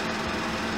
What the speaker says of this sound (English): the car engine's running because with all this wiring and testing